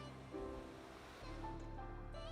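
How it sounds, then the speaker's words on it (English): Water rushes steadily into a Fisher Paykel washing machine as it fills, a continuous hiss and low rumble that swells slightly partway through, heard close and alone. "Water's going in fine."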